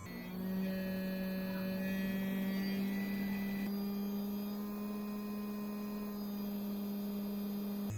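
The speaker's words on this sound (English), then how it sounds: "here I'm running the motor at 17 volts" Small electric motor from an old computer spinning a disc at about 6000 RPM on 17 volts, a steady close hum with a strong low drone and faint high whine, unbroken throughout with no talk.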